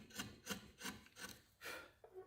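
Hand rasping and filing along the edge of a wooden lovespoon as it is shaped and bevelled, a run of about six rhythmic scraping strokes, close and steady with short pauses between.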